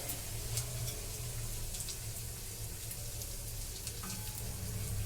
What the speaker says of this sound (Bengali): এইভাবে কিন্তু বন্ধুরা আমি সবকটা কচুরি ভেজে নেব।